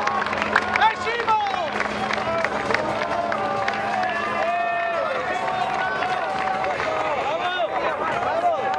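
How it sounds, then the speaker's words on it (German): A roadside crowd at the Tour of the Alps Hungerburg hill climb cheers and claps for cyclist Michele Scarbone, a dense, lively roar of clapping and shouts with an announcer's amplified voice running over it throughout. "Leute, noch was Applaus für Michele Scarbone!"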